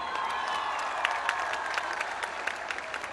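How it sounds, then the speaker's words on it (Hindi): Crowd at a political speech on Kashmir, aired in a Pakistani news bulletin, claps steadily with a few louder individual claps and faint cheering mixed in. "जरा एक कश्मीर के लोगों के लिए तालियां बजाएं।"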